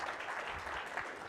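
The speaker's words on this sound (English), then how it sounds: "Give a round of applause." Audience applause at a Linux App Summit conference session, a brief, faint, steady patter of clapping after a talk ends.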